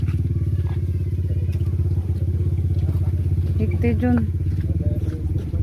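A tricycle motorcycle engine runs steadily and close by throughout, a low chugging rumble with a few clattering knocks, while people talk over it.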